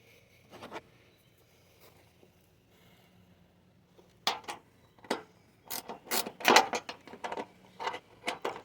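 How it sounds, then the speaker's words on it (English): Ratchet working a 10 mm bolt loose from a car hood hinge on a 7th-generation Nissan Maxima, heard as quiet, scattered bursts of clicking and metallic rasping in close, separate clusters with pauses between. "we're gonna remove this 10 mil bolt, then the 10 mil bolt right there"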